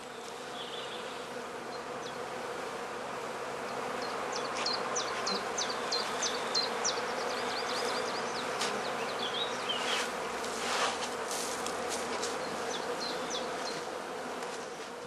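Honeybees swarm around the open entrance of a straw skep, a steady dense buzzing that continues throughout, with individual bees droning close by now and then, and no voices.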